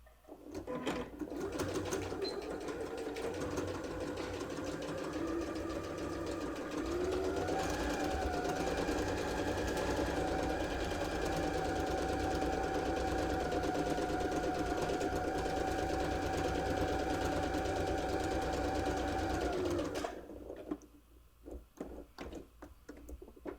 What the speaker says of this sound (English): we're just going to sew around at the edge of the presser foot